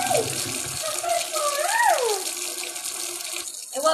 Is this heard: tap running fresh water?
yes